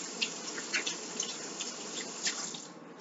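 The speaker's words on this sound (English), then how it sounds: "Rinse underneath your nails really well." Running tap water splashes steadily over hands being rinsed at a bathroom sink, with brief louder splashes as fingers and nails pass under the stream, close and continuous with no voices.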